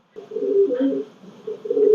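Soft, low coos of Pathan pigeons in a loft, a short rolling series, close by and clear, with no voices.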